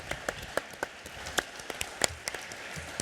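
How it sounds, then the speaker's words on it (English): Scattered, fairly quiet applause from a small audience at a venture pipeline awards event, individual sharp claps spaced irregularly rather than a dense roar, over about three seconds. "Let's give another round of applause to JD for that great presentation."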